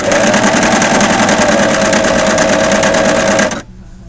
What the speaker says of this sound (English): you are sewing through essentially four layers of fabric